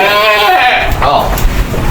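A dairy goat bleats loudly and close by while giving birth, a single wavering cry with harmonic layers lasting under two seconds.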